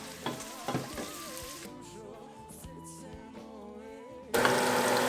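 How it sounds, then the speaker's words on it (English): Red pepper sautéing in a pan for a Macedonian bean stew (barbunja manja), a soft steady sizzle with a few stirring clatters at the start and a louder burst of frying near the end, no talking. "So we'll saute this for a little while."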